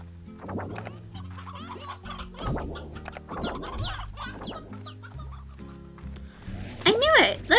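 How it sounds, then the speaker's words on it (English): Chickens cluck repeatedly in the Slime Rancher video game, a busy run of short clucks over a layered background, ending in louder squawks. "Literally, chickens are being flung right out of this thing."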